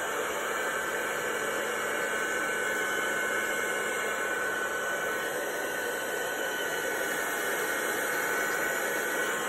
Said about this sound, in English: Oh, there goes my heat tool.